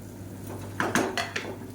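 A few quick scraping clinks of a utensil stirring soya chunk rice in a metal pressure cooker, close and fairly faint, spaced irregularly.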